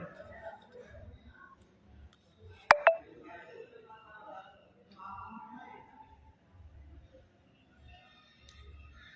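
A brief burst of telephone dialing tones at the start of a recorded phone call, sharp and loud for under a second, set among quieter talk and line noise.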